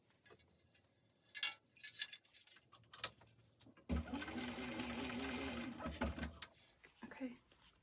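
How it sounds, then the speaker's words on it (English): Sewing machine top stitching along a bag's zipper tape edge, first in short bursts with handling clicks and then in a steady, close, whirring run of stitching for several seconds before it stops. "you'll top stitch along there and then repeat with the other side also"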